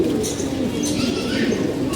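Pigeons cooing nearby, soft low throaty coos repeating over a continuous murmur of birds.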